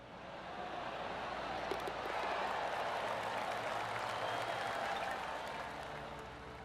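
Virtual golf gallery applause from PGA TOUR 2K23 at Riviera during the Genesis Invitational, a faint, sustained wash of clapping that swells and fades gently over several seconds with no talk.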